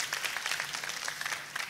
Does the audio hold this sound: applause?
yes